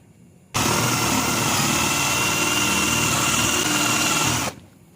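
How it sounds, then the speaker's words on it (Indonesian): A power drill fitted with a 2 cm bit bores a hole in a homemade tool, running as one steady, loud whine for about four seconds, then winding down to quiet. "Sebelum 10 mili kita bor dulu 2 cm ukurannya, bor ukuran 2 cm atau bor kunci ya."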